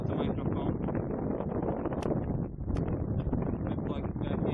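Heavy wind buffeting an external microphone on a Canon PowerShot SX50 HS camera, a loud low rumble with gusty fluctuations and a few brief sharp clicks.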